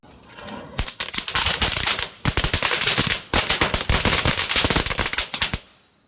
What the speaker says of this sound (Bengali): কালী পুজো বাজি ফাটানো হবে না সেটা তো হয় না